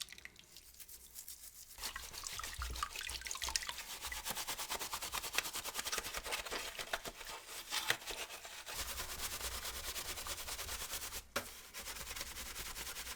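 A brush scrubs soapy little plastic buttons and pieces in quick, rhythmic strokes, a soft, close, wet rubbing that carries on almost without pause and stops briefly twice.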